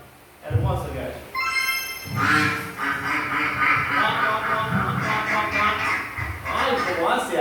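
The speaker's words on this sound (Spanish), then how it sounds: "¡Un patito!" A duck quacks several times at close range while a person talks excitedly over it in a lively, animated voice.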